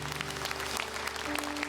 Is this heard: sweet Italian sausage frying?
no